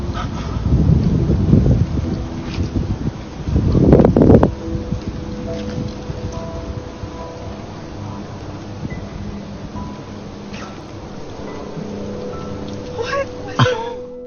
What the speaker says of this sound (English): It's probably just a localized wind current